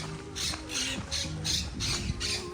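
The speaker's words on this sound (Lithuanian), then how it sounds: "Čia papūgos, va, čia tos papūgos kaukia." Parrots squawk in a repeated series of loud, harsh calls, about six bursts in steady succession, close by with no talking.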